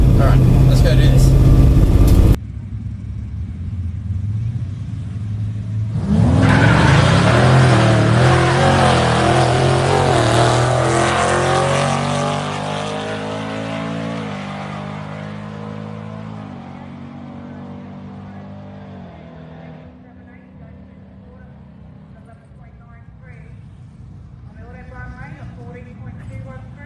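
A SupaTroopsta drag car makes a hot lap run, its engine revving hard and climbing through gears in a loud, close roar that gradually fades into the distance, with speech heard briefly at the start.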